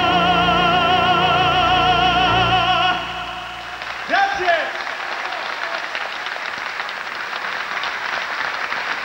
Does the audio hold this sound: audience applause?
yes